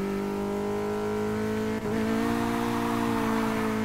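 An Acura RSX-S 2004 in the racing game Need for Speed Heat holds a steady high engine whine, broken by a short tire squeal midway before the engine picks up again, loud and with no one talking.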